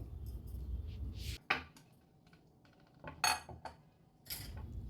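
Grated bottle gourd is tapped and scraped out of a metal grater, giving a few sharp close clinks and knocks separated by quiet gaps, no talk.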